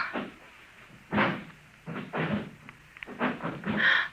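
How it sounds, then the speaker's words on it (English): Muffled thuds and creaks of a door opening, a few dull knocks spread over a few seconds against a quiet background. "The front door."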